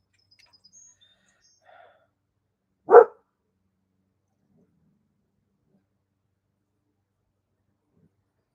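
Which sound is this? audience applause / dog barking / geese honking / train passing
dog barking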